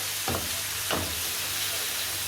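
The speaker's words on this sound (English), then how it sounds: "So now I'm going to add the spices. Give it a nice mix." Spices sizzle and fry in a paella pan with a steady hiss, and two short scraping strokes of stirring rise above it; close, with no talking.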